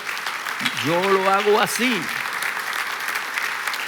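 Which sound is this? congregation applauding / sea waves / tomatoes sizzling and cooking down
congregation applauding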